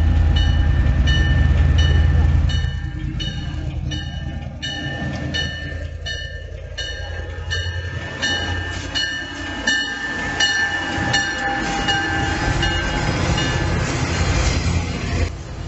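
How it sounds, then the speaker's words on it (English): The Rio Grande Ski Train rumbles in loudly, a deep engine drone giving way to rhythmic wheel clatter and steady mechanical hum as it pulls into the station at Winter Park. "Let's listen to the sounds as the ski train arrives into the station at Winter Park"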